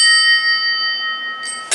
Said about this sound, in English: I'm gonna make a set of these into chimes from the drum set.